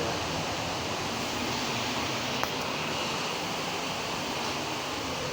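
Rain driven by strong wind over a house rooftop, a dense, unbroken wash of noise that stays level throughout, with one brief faint tick partway through.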